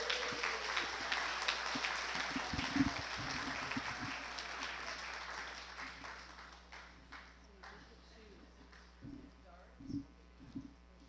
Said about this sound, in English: Can we give them a round of applause, everybody?